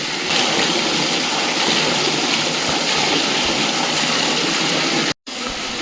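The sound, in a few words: heavy water gushing from a mountain spring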